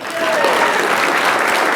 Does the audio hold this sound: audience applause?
yes